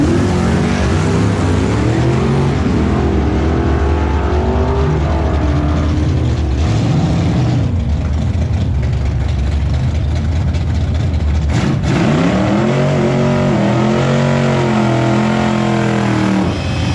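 A stock-block 302 car running nitrous makes a drag pass, its loud engine roaring steadily near the microphone, with rising and falling revs and a gear change partway through.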